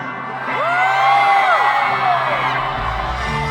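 A concert crowd at a show in Doha cheers and whoops loudly, with one high voice sweeping above a continuous roar of shouting.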